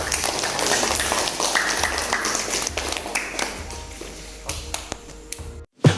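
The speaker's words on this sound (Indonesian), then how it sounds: "kita tepuk tangan dulu untuk kegiatan kita" Group applause for a school learning activity: dense, even clapping from many hands for about five seconds, then thinning out and stopping abruptly.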